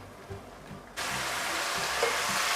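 Chinese sausage frying and simmering in oil, a quiet faint sizzle that jumps to a loud, steady broadband hiss about a second in and keeps going without any talk.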